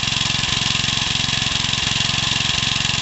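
An old Suffolk Briggs small engine, worn and with a failing oil pump, runs close by, a loud, rapid, steady chugging of regular firing pulses with no talking over it.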